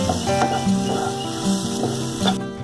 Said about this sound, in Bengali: এরপর সমস্ত মশলাটার সাথে ডিমটাকে মিক্সড করে দেব।